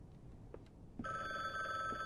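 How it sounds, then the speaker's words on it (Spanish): A telephone rings in The Bookwalker: Thief of Tales video game, a faint electronic ringing tone that starts suddenly and repeats over quiet background. "Ya me están llamando. Voy a coger el teléfono"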